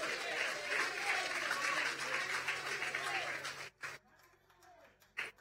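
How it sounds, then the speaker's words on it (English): Dense applause fills a town hall meeting on housing initiatives for Roseau South, then breaks off abruptly, leaving near silence with a couple of faint stray sounds. "Let's give him a round of applause."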